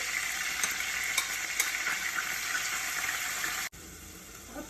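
Chicken stir-frying in a pot with onions and tomatoes tossed in, a bright continuous sizzle punctuated by a few scraping stirs, then an abrupt cut before the frying hiss resumes more quietly.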